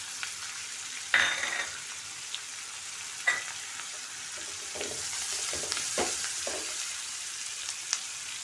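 Capsicum and onion fry on a hot tawa for pulao, giving a steady soft sizzle with several sharp crackles and pops scattered throughout, fairly quiet, with no talk.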